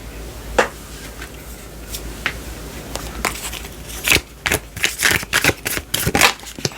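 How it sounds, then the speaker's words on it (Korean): Tarot cards shuffled and drawn by hand, soft riffling flicks and sharp snaps of card stock arriving singly, then in quicker bursts near the end, close and clear with no talk. "추가 카드 뽑아서 확인을 조금 해보겠습니다"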